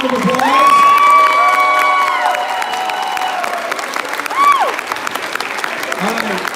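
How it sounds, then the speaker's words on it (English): A crowd at a youth film awards ceremony in New Mexico applauds the genre and audience award winners. The clapping is loud and sustained, with whoops, cheers and some voices mixed in, and it eases slightly toward the end. "Please give them a huge round of applause"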